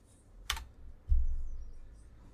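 A few faint, isolated keystrokes on a computer keyboard while code is typed in Unity; two soft clicks stand apart over quiet room tone.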